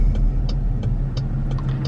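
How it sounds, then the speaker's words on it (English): A car rolls past on a road with a steady low engine rumble and tire noise, fairly close and continuous, with a few light ticks over it. "this car doesn't realize that they can go around me"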